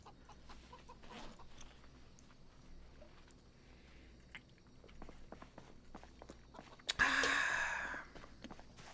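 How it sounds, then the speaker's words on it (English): Flock of chickens in the Project Zomboid video game, soft scattered clucks and footstep-like scratching at moderate distance, then a sudden loud squawking burst near the end. "those chickens are cute"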